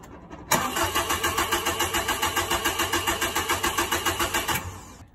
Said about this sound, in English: Now let me start the car and let it die.